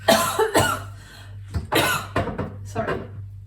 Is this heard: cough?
yes